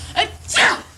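A single short sneeze, sharp and fairly close, with a brief intake before the burst.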